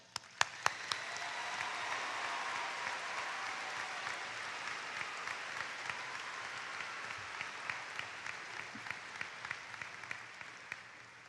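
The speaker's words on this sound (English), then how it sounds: "We applaud you." Sustained crowd applause at the Normal Community High School 2018 graduation ceremony, honoring scholarship recipients; a dense, even wash of clapping over eleven seconds, with a few crisp individual claps standing out near the start and scattered throughout.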